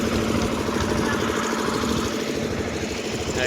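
A boat engine runs close by at Okha port, Gujarat, during a storm, with a loud, steady chugging rumble that never lets up.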